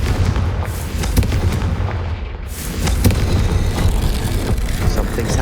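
A Confringo fire spell bursts in Hogwarts Legacy, a loud, dense roar of booming, crackling blasts that runs on without a break and swells louder partway through.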